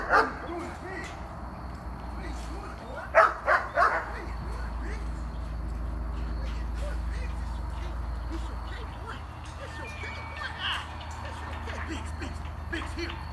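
Protection-trained dog barking in a few sharp bursts early on, a couple of quick loud barks near the start and a cluster around three to four seconds, then quieter yips and whines over low background rumble.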